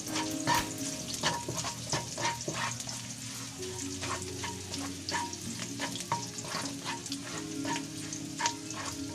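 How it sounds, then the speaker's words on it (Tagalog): Chicken and ginger sauté in a hot pan, sizzling steadily and loudly up close while a utensil stirs and scrapes in repeated strokes. "Gisa-gisa lang po natin."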